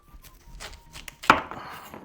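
A knife cuts through the bottom end of a spaghetti squash on a cutting board, a few light taps leading to one sharp, close chop near the end.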